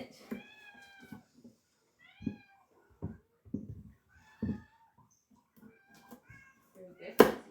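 Indoor cat meowing in a series of short, high, tonal meows spread over several seconds, fairly close, mixed with soft human talk and a sharp knock near the end.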